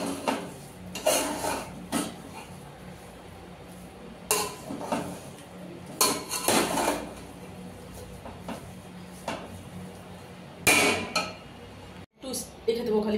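A metal lid is set down on a pot of chicken tehari flavoured with kewra water, giving a few scattered clinks and knocks of cookware that come through clearly over light kitchen background noise.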